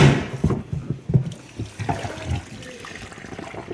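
Dirty water from a Rug Doctor rental carpet cleaner's recovery tank splashes and trickles out in uneven gushes, close and fairly loud, tapering to a thinner dribble.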